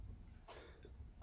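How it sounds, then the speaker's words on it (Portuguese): A single short, sharp cough, close and loud, bursting out at the end after near-silence with a faint breath. "Tosse."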